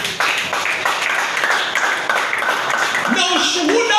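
A church congregation claps and cheers in praise of Jesus, a dense burst of clapping that carries on steadily under a preacher's voice speaking over it.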